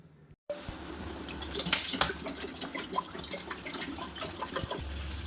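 Water pours steadily into a cooking pot for pasta, a continuous splashing gurgle starting abruptly after a brief pause and running to the end, close and moderately quiet.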